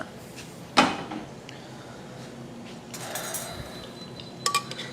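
A pan of Italian tomato sauce is handled on the stove: a sharp metallic clank early on, then soft rattles and scrapes of cookware being shaken, with a few light clinks at the end.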